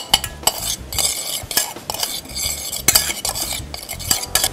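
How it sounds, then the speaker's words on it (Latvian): Spoon stirring a dish in a pan while cooking, with fresh ground pepper and a little salt just added: repeated scraping, clinking strokes at close range in an irregular rhythm, with faint sizzling beneath and no talking. "Samaisam."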